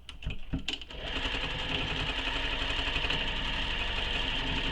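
Sewing machine stitching webbing back and forth on a bag tutorial, a few short start-up bursts giving way to a steady, continuous motor whir and needle chatter, close and alone.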